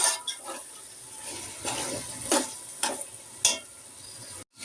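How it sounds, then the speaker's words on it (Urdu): Chicken, potatoes and six green chillies stirred in a hot pan, with a steady sizzle and a few louder scraping stirs near the mic before a brief drop to silence at the end. "ساتھ ہی ڈال دوں گی 6 عدد سبز مرچ، اور چکن کی بھی آلووں کے ساتھ میں فرائی کر لوں گی۔"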